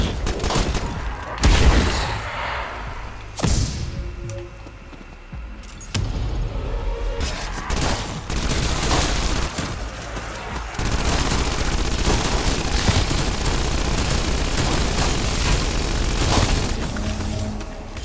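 In Call of Duty Black Ops Cold War zombies gameplay around round 50, a Mastercraft PPSh-41 submachine gun fires in long, rapid bursts, loud and close, mixed with explosive booms, shattering impacts and game effects.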